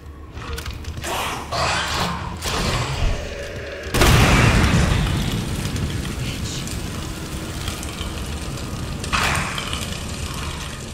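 A grenade launcher fires at a licker in Resident Evil 2 Remake, giving one heavy booming blast that swells suddenly and fades into a long rumbling, crackling tail, with a smaller burst later.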